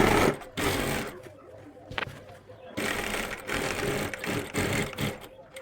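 A sewing machine stitches an invisible zip onto a kurti in bursts of rapid, close mechanical whirring, separated by short pauses and a sharp click.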